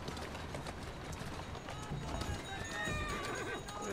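Horses in Assassin's Creed Syndicate whinny and clip-clop at a gallop across streets, hooves beating rapidly and close with a sharp neigh rising near the end, all under a low game backdrop.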